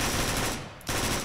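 A loud, continuous burst of gunfire fires close by, drops off briefly for a moment, then resumes at full force.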